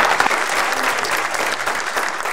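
A room full of people at a quiz game claps steadily and loudly for a couple of seconds.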